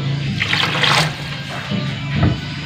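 Water poured from a cup into a lemon bread dough mixture in a home kitchen, splashing, gurgling pours in a few bursts, close and fairly loud, no talking.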